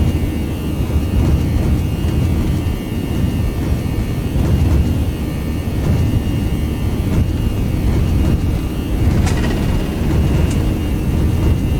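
A heavily loaded Airbus A319 makes a full-power takeoff roll in X-Plane 11, a loud, steady, low engine roar with rumbling wheel noise that continues unbroken for about twelve seconds, with no talking.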